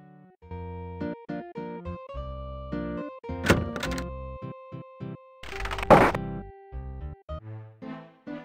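An inn door in the video game Quest for Glory 4 opens as the hero walks in: a solid wooden thunk and a brief rattling burst, heard over steady in-game music.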